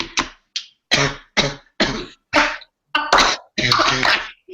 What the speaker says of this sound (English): I actually was coughing and now I'm done.